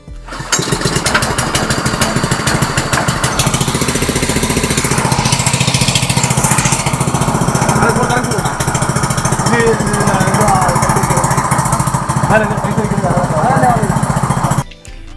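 Small engine attached to a pipeline double-can milking machine running steadily at a dairy farm during milking, a loud continuous rapid chugging that starts abruptly and holds to the end, with a voice talking over it.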